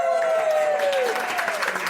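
An audience applauds to welcome podcast host Annie McCubbin of the Why Smart Women podcast at an Australian Skeptics event. The clapping is a dense, steady wash throughout, with a faint tone gliding downward through the first half.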